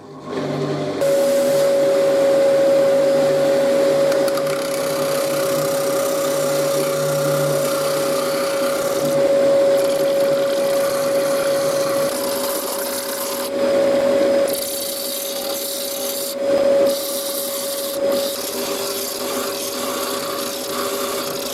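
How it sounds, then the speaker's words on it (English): A steady whine of a power sander grinding across plywood, running continuously with a few brief dips and restarts, close and loud. "Let's do some sanding"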